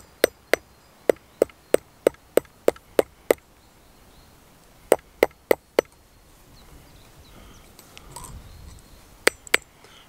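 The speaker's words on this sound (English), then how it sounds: "I used this hammer, a ball hammer, to make these markings" Ball hammer strikes metal while cold forging Viking jewelry in a forest, sharp ringing taps in quick rhythmic bursts of several blows, pausing between runs, close and clear with no talk.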